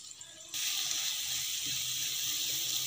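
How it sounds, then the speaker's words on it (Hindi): One tablespoon of garlic paste hits two tablespoons of hot oil in a pan, starting a loud, steady hiss that holds evenly after a sudden onset, with no talking over it. "लहसुन को हमने फ्राई कर लिया है।"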